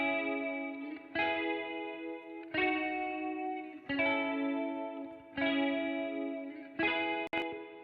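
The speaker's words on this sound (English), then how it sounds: "in the verse, I have these guitar strums." Dirty, direct-in guitar strums through a Guitar Rig Tweed Man amp ring out alone, six sustained chords struck at a steady, unhurried pace, each one decaying with a warm, distorted shimmer.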